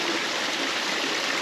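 A jungle stream on Christmas Island rushes and burbles in a steady, close wash of flowing water with no voices.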